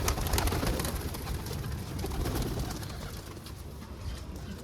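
Pigeons coo softly and repeatedly over a constant background hiss, with some light fluttering and no talking.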